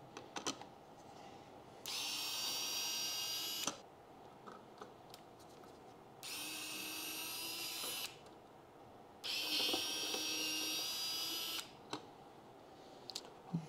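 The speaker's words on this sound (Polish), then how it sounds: "No i teraz pozostało odkręcić samego BMS-a" Power screwdriver backing screws out of a battery BMS board in bursts, three bright whirring runs of about two seconds each with quiet handling pauses and small clicks between them.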